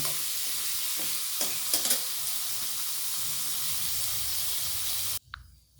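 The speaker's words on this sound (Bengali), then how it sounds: "এইভাবে আমি সমস্ত সবজিগুলো একে একে ভেজে নেব" Mixed vegetables fry in a pan with a steady, loud sizzle and hiss, broken by a few scraping stirs, then stopping abruptly near the end.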